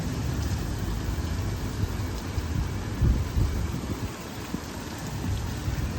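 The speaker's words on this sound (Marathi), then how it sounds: "लय डेंजर मोठा पाऊस आला" Heavy monsoon rain pours down steadily, water driven by gusting wind, a dense continuous hiss with low rumbling swells and no voices.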